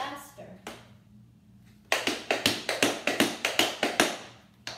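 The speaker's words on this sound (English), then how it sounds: "That is a running flap. It's a little faster." Running flap tap dance steps on a small floor, with a fast, even series of sharp, loud taps following a short pause after a few opening strikes.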